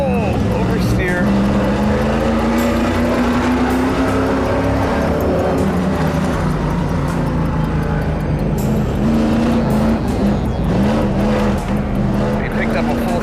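A street-legal stock car drifts around a track, engine roaring steadily with rising and falling revs throughout, close and loud, with a voice talking over it.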